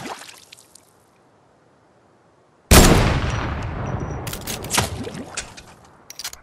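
Fortnite gunfire: after near silence with a few faint clicks, a sharp loud shot bursts in and trails off, followed by several more quick shots.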